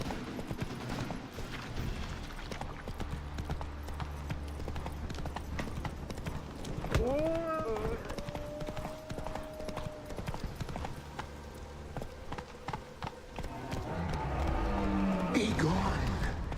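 A horse gallops in The Witcher 3 with a steady, fast clip-clop of hooves under music and game sounds, joined by a brief whinny midway and louder effects near the end.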